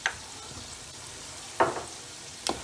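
Garlic ginger paste sizzles and fries in a hot pan with a steady close hiss, broken by a few sharp scraping stirs.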